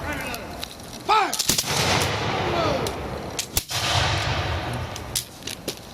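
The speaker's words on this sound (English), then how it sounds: "a volley of musketry from the Patriot forces" Musket volley from Patriot forces in a battle reenactment of Moore's Creek: a loud crackling burst of gunfire, then several sharp separate shots amid shouted commands and crowd noise.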